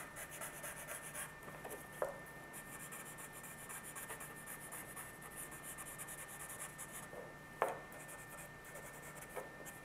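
A pencil hatch-marks on paper in quick, repeated scratchy strokes, close and soft, with a couple of small taps as the lead lifts and lands, no talking.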